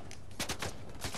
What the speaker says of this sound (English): Literally someone shooting at someone and missed and hit me.